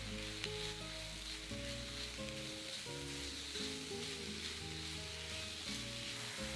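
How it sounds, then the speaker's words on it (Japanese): Vegetables stir-frying in cooking oil in a frying pan over medium heat, giving a steady, close broadband sizzle that runs throughout, with tonal background music playing underneath and no talking. "フライパンに食用油を入れて中火にかけ、おから以外の具を炒めていきます。"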